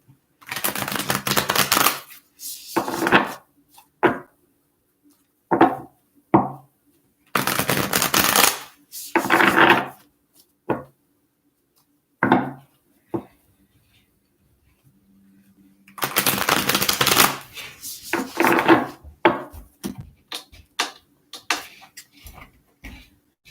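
Tarot cards being shuffled by hand in close, loud bursts of riffling and flapping, separated by short quiet gaps, with no talk.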